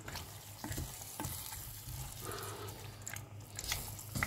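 Osso buco with tomato being stirred in a pan: soft sizzling under intermittent scraping and clinking utensil strokes, close and fairly quiet, with no voices.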